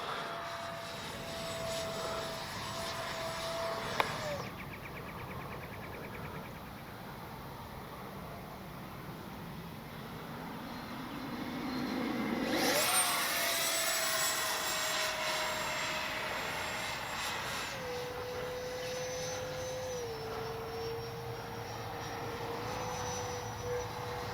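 A Freewing 70mm EDF F-35 RC jet flies overhead, its ducted-fan whine steady and moderately loud, swelling into a brief roar as it passes close, then shifting pitch as it banks away, with no talking.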